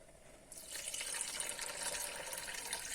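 Water poured into a cooking pot for chicken curry, a sudden close rushing splash that starts abruptly and runs steadily for a few seconds, with no talk.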